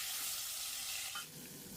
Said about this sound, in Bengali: আরও যে কটা মাছ আছে সেগুলো ভেজে নেব